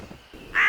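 A cartoon bird gives a single harsh, crow-like caw in an animated Hindi story, loud and sudden after a quiet, murmuring moment.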